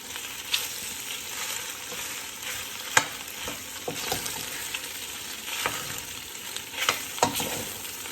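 Pasta tossed with olive oil in a pan gives a continuous soft sizzle, with a spoon scraping and tapping the pan every second or so, close-up and without any talking.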